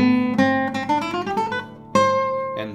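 A guitar plays a short scale exercise in a burst rhythm, quick clusters of plucked notes separated by pauses, with a strong accented note near the end, close and clear with no talking.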